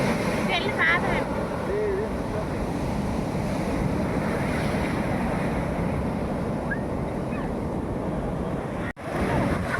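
Surf at Marina Beach, Chennai, forms a broad continuous roar of waves mixed with wind buffeting the microphone, with a few faint distant voices and cries over it.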